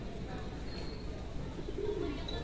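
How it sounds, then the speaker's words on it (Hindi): A pigeon coos softly outdoors on a rainy morning, low calls rising out of steady background noise across a few seconds. "ये देखें ये कबूतर आ रहा है जी किसी का"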